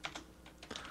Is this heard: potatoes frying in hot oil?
no